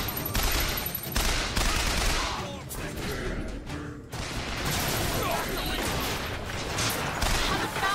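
Rapid, loud gunfire bursts in BioShock Infinite roll on for about eight seconds with a brief lull midway, as voices speak over the shooting.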